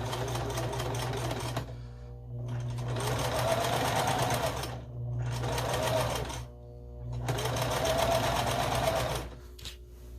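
A sewing machine runs in three long bursts of rapid stitching through the seams of a scrappy string quilt, stopping briefly between runs, loud and close, with a low steady hum underneath.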